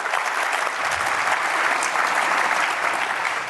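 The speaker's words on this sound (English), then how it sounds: "How about a round of applause for Stu?" Sustained applause from a conference audience at KB4CON 2019, a dense, steady wash of clapping that fills the whole stretch without a break.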